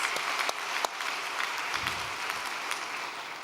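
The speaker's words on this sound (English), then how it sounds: "let us offer them a great round of applause" Audience applause for two people who gave testimonies at a Cheonshim Won gathering: a steady, full wash of many hands clapping with a few sharper slaps, continuous throughout.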